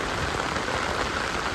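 Heavy rain pours down during an evening of fishing at Kaipuzha, a dense, steady hiss filling the whole clip at constant loudness with no voices.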